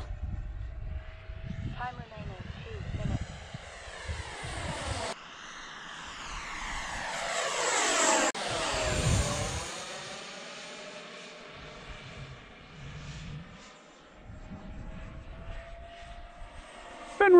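An Arrows F-15 RC model jet at part throttle whooshes past with a rising then falling engine whine, loudest mid-pass and fading afterward, while someone talks nearby.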